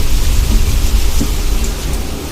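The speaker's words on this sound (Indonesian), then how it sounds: "Rupanya hujan besar sekali di luar." Heavy rain pours outside a travel minivan, a loud, dense, unbroken roar with low rumbling under it.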